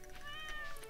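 A short synthesized cat meow from the video game Stardew Valley, a single gliding tonal call under a second long, faint against background game sound.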